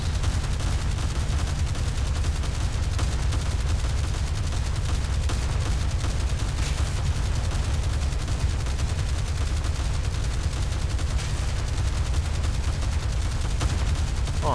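Steady, dense gunfire rattles on throughout a naval video game battle, continuous and fairly loud with no speech over it.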